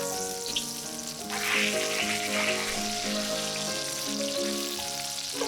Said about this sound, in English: Make sure you sear out that back half as well to get maximum flavor